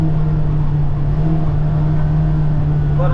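Inside the cab of a 2024 Kawasaki Ridge side-by-side UTV, the engine runs as a steady, muffled drone with a constant low hum, loud and unbroken for a few seconds.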